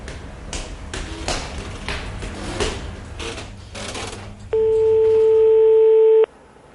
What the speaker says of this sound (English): The Panthers are dialing the security line right now.